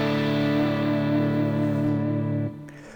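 A sustained clean electric guitar chord rings out bright and steady, then is cut off abruptly near the end, leaving a faint tail.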